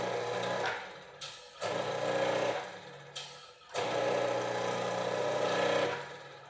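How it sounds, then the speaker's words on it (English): A cheap electric motor driving a hydraulic pump for a tube bender whirs in several bursts, starting and stopping in a stuttering rhythm, fairly quiet and close with no talk. "All right, see how it works. Motor runs."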